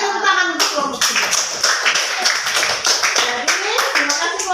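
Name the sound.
class applause for group 3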